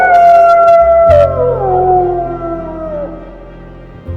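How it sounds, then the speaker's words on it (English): A timber wolf gives a long trail cry in early morning silence, a sustained howl that glides downward in pitch and fades over several seconds, with a brief yip-like break early on. "Joe Kitchi heard, in the early morning silence 3 hours before dawn, the trail cry of a timber wolf"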